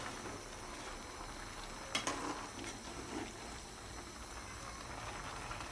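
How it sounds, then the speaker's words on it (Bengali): A Bengali dried-fish curry with sweet pumpkin greens and kalmi greens is stirred in a pot: quiet bubbling and simmering with a sharp clink of a utensil against the pot near the middle and a few soft scrapes. "একটু নেড়ে দেব।"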